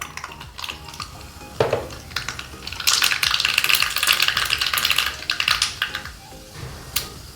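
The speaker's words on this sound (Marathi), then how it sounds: "थोडा गॅस बारीक करते मी आणि मोहरी टाकते" Mustard seeds tempering in a tablespoon of hot oil on low heat for methi chila, crackling and popping in a dense burst of sharp ticks that rises, holds, then thins out, close and fairly loud.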